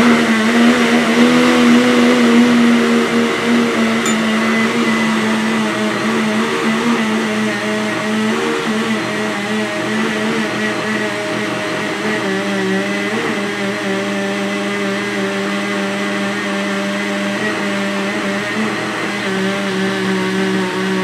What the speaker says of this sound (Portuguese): Vamos também bater só para misturar.